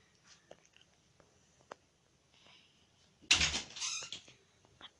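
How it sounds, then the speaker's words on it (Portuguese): A door is opened indoors in a home, a sudden close clatter and creak after quiet, with a few faint knocks before and after, no talking. "Meu pai abriu a porta aqui, eu não sabia que eu tava gravando."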